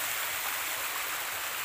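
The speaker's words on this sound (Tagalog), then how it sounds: "kasi yung ganito yung baksak na tubig na mahina lang" Falling water splashes gently but steadily at a possible treasure site, making a continuous airy hiss that fills the whole stretch without a break.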